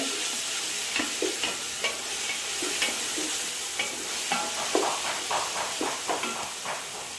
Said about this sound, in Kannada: ನೋಡಿ ಈರುಳ್ಳಿ ಫ್ರೈ ಆದ ನಂತರ ಟೊಮೆಟೊ ಹಾಕಿದೆ